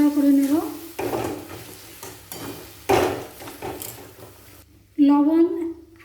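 Grated carrot frying in a pan is stirred, giving bursts of sizzling and scraping from the utensil between stretches of someone talking, with the sizzle loud at moments and fading in between.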